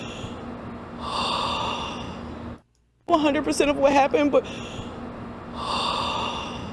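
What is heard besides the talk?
heavy breathing of woman in recorded clip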